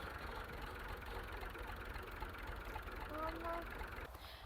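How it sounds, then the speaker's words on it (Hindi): A tractor engine idles at a rural mud house building site in Pakistan, a steady low rumble running throughout with a few faint tonal whines near the end. "ये ट्रैक्टर आ गया भाई,"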